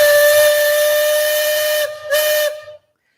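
Liberty Belle riverboat steam whistle at Magic Kingdom, a loud sustained steady blast with a hissing edge, broken by one brief dip before it sounds again and cuts off.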